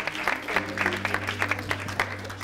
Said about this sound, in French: on accueille toujours sous vos applaudissements, s'il vous plaît, Monsieur Hugues Tendayi